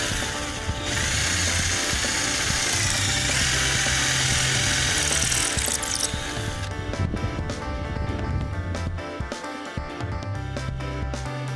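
A Mitsushi cordless drill driver grinds into cement with a loud, continuous whirring and rattling hammer-like buzz, briefly easing off midway before resuming in short bursts.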